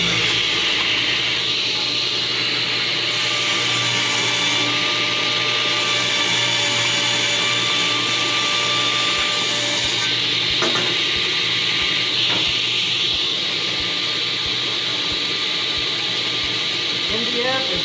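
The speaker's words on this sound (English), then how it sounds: "so we're making some here on the table saw" Table saw ripping MDF into narrow 1x2 strips, a steady loud whining cut running throughout, with voices talking over the saw.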